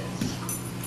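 A dog lets out a short, soft whimper, a brief high whine close by with faint background noise.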